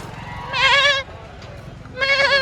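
Goats at the Jiyaguda goat market in Hyderabad bleat loudly and close, two separate wavering calls about a second apart over a low background murmur.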